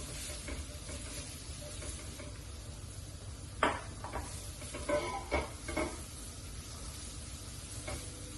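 Carrots, beans and parsnips frying in a wok, a steady low sizzle with a few scraping stirs and clatters in the middle.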